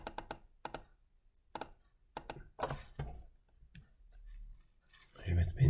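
Computer mouse clicking in a spreadsheet, a series of sharp, close taps and clicks, some in quick pairs, with a voice speaking over the later part.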